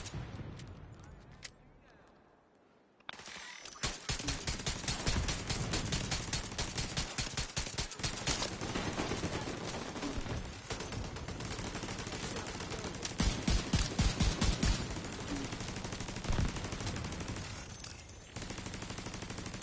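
Rapid automatic turret fire in a video game shooting at an enemy, dense sustained bursts of shots running almost continuously after a brief quiet opening, loud and close.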